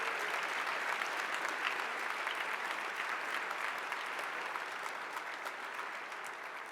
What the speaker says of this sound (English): Let's give a round of applause to so many people that